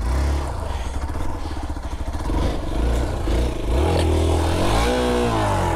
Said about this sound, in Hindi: तो गाइस अभी चल रही है हमारे बाइक की ऑफ रोडिंग।